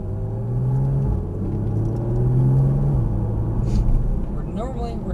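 A Porsche Cayman S engine drones and builds under throttle on a race track, a loud, close rumble that rises in pitch through the gears, with a voice talking over it.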